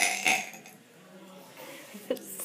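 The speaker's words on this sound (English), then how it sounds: "You like one of those big burps." A big burp at the start, followed by softer throaty gurgles and a second short belch near the end, close to the microphone.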